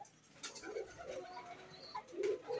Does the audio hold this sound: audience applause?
no